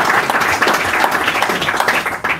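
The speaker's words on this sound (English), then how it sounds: "I think that's worth a round of applause." Audience applause at a humanitarian conference presentation, a dense, continuous round of many people clapping, fairly loud and close, with no speech over it.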